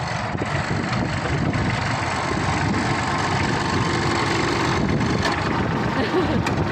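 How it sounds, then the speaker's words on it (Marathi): A tractor engine runs steadily nearby, a continuous rumbling drone that holds an even loudness throughout. "चिक्या ट्रॅक्टर बघा कसं चालवतो."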